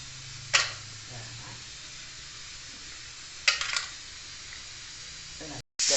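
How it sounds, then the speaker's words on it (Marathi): A pressure cooker on a home stove gives short hissing steam bursts while mutton cooks, two brief spurts separated by a quiet stretch, with no talking. "तर या ठिकाणी आपली शेवटची शिट्टी झालेली आहे कुकरची आणि मटण शिजलेलं आहे"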